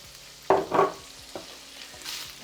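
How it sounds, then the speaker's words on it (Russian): Onion and pork belly fry together in a pan, giving a soft, steady sizzle with a couple of louder scraping stirs near the start and lighter clicks afterward. "Это все дело перемешиваем и обжариваем до золотистого румяного цвета"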